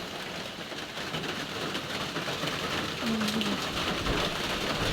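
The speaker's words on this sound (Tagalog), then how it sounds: "Dito po grabe talaga ang ulan." Heavy, unrelenting rain pours steadily in a cold rural setting with a flooded stream nearby, a dense broadband hiss holding level throughout with a brief faint tonal sound partway.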